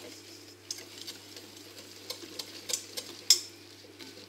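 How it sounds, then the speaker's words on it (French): A utensil stirs Gueriba biscuit dough mixture in a bowl with soft, irregular scraping and light ticking taps, then one louder knock against the bowl; no one speaks. "il ne nous reste plus qu'à mélanger tout ça dans notre préparation"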